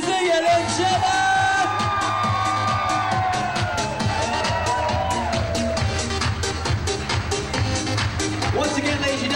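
Wedding guests greeting the newly married bride and groom, Dean and Cecelia, with loud sustained cheering, whoops and yells mixed with rapid clapping, a full crowd close by throughout.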